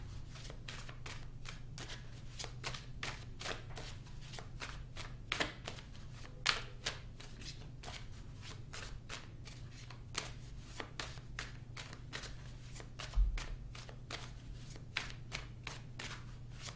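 Tarot cards are shuffled over and over in quick, crisp riffles and soft slaps, close and fairly quiet, with no talking.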